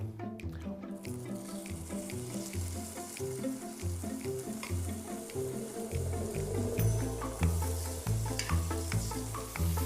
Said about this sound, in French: Première étape, on va colorer dans un petit peu d'huile.